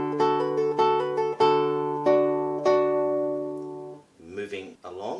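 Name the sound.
classical guitar playing first two bars of Carcassi Etude No. 10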